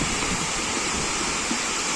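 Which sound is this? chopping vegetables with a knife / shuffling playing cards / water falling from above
water falling from above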